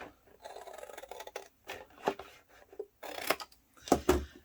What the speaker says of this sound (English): We're cutting away these panels